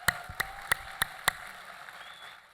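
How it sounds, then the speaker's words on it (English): Five sharp, evenly spaced claps ring out in a conference hall at an inclusion summit, fading into a quiet room tone with a faint high whine; only a brief scattering of hands, not sustained applause. "Let's give them another round of applause"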